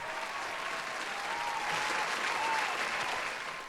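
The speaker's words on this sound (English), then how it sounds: "the crowd goes fucking wild for it" A crowd cheers and applauds as a contestant's score comes in during an anime over/under game, with a steady wash of clapping and whooping that swells in the middle and stays loud for several seconds.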